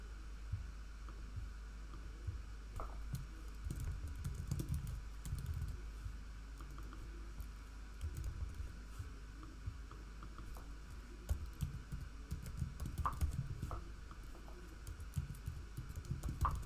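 Soft, quick clicking of a computer keyboard as a password is typed, faint patter of keystrokes in short clusters over a low steady room hum.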